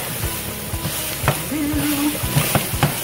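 Seasoned ground beef and vegetables sizzle in a pan while being stirred, a steady close frying hiss broken by scraping and knocks of the utensil.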